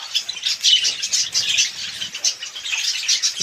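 Several pet birds chirp and tweet without pause inside their room. The high, overlapping calls come close and lively, with a few louder squawks and no voices.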